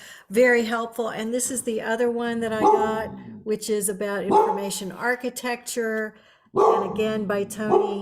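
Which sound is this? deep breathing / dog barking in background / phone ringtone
dog barking in background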